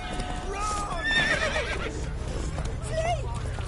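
Roach, a horse in The Witcher 3 video game, whinnies over a steady bed of clip-clopping hooves and game ambience, fairly close, with a voice talking over it.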